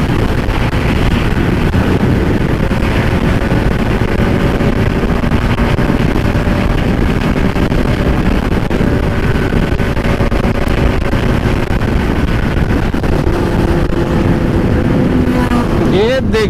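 A Ducati Panigale V4 superbike on a Sunday ride, its loud, constant engine roar heavily buffeted by wind on the microphone, with a shifting tone near the end as the bike sweeps past.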